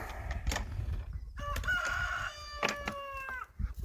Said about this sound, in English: let's get over to the chickens and feed these